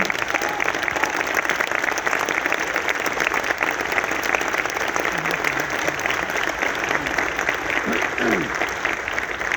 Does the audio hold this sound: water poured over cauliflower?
no